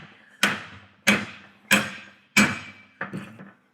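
Five sharp, evenly spaced hammer blows ring out close by, driving out a U-joint cap, each metallic strike decaying quickly before the next, with the last one softer.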